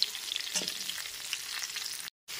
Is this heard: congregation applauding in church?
no